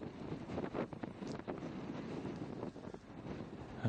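Gusty wind buffeting a microphone over open, exposed Yorkshire country with dry stone walls, a continuous rough roar rising and falling in strength.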